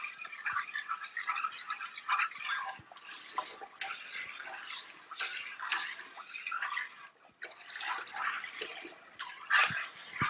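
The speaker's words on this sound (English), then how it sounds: "I'll just keep stirring it. And I use a big pot like this to stir it." Water stirred in a big cooking pot, a steady close sloshing and swirling with bright liquid splashes and drips, no voices.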